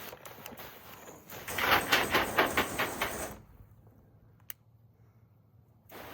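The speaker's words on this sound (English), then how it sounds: "So that's the high pressure spray." A loud broadband hiss of high-pressure water spraying from a hose nozzle, pulsing rhythmically for a couple of seconds, then cutting off abruptly, leaving quiet background.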